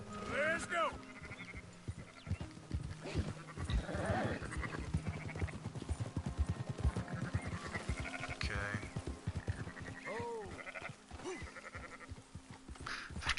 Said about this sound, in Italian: Cerca di mantenere una velocità costante dietro le pecore